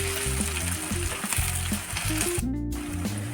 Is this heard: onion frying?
yes